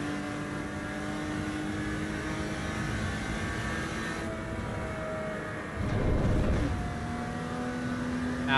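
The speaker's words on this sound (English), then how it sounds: "Christ alive, that engine note is loud." Racing car in a video game on its out lap, its engine droning loud and steady throughout with tonal harmonics, a brief surge of rougher revving near the end.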